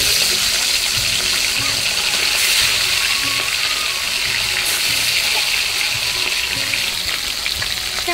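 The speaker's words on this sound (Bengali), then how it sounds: "এবার আমি মাছটাকে ভেজে নেব।" Hilsa fish head, rubbed with salt and turmeric, fries in hot oil in a wok, giving a loud, steady, close sizzle that runs unbroken throughout.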